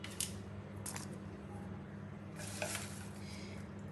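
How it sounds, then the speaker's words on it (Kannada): Rasam powder spices with Byadagi chillies and garlic dry roasting in a pan on a low flame, a faint soft sizzle with occasional scraping stirs, no voices. "ಇವಾಗ ನೋಡಿ ಹುರಿತಾ ಇದ್ದೀನಿ."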